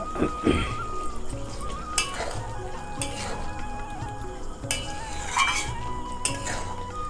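A spoon stirs mushroom and potato curry in a pan as garam masala goes in, with scattered metallic clinks and scrapes against the pan over a soft, steady sizzle.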